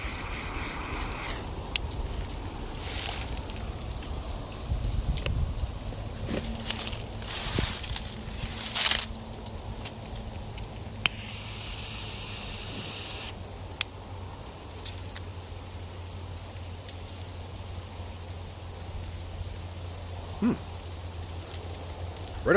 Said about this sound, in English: Apologies for wind noise, it's a little breezier than I thought, and there's really dry leaves that are making just a horrendous racket.